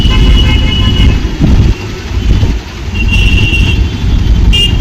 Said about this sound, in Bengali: আমরা এখন ডানলপের জ্যামে আটকে রয়েছি, কখন সিগন্যাল ছাড়বে।